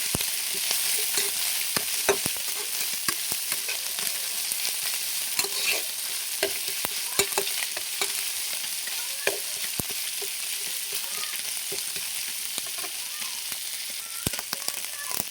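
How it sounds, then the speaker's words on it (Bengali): Ginger-garlic paste is stirred into onions and fish frying in a pan, with a continuous bright sizzle broken by repeated sharp scrapes and taps of the spatula against the pan. "এবার এতে দিয়ে দেবো আদা রসুন বাটা। ভালো করে এটা নেড়ে নেবো।"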